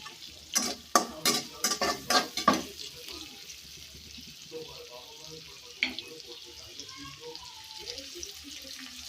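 Spices and green chillies fry in a pan for a rohu fish and papaya curry in a village kitchen, with several sharp stirring clatters close up at first, then a quieter, low sizzle.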